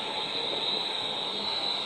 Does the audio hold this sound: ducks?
no